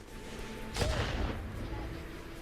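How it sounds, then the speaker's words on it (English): An airstrike explosion in the artillery game Worms W.M.D., a single broad boom with a rumbling tail, fairly loud against a steady background hum. "You're all about the airstrikes, huh?"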